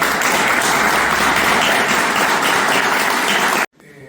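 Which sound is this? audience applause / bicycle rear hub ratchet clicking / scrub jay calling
audience applause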